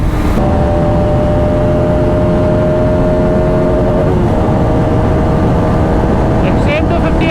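A motorcycle engine drones steadily in high gear during a performance test run comparing a Hero Xtreme 250R, Yamaha R15M and Pulsar RS200, with loud continuous engine and wind roar throughout and a rider talking over it.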